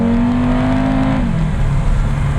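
A 2023 Audi RS3 in sport mode accelerates with a loud, steady engine drone that holds a rising tone for about a second, then drops as the gear changes and settles into a lower, rougher hum.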